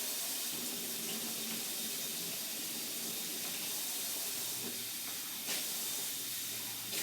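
Cold tap water runs steadily into cat water bowls, a continuous close hiss and splash with no talking.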